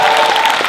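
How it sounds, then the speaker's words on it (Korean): A short, loud burst of audience clapping at a political talk concert welcoming a lawmaker, dense and close, lasting under a second. "박수 주십시오."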